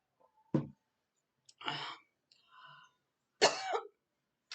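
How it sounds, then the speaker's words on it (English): A few separate coughs and throat-clearing sounds, close and fairly soft, with short silent gaps between them. "I picked up a bit of a cough, like a funny throat."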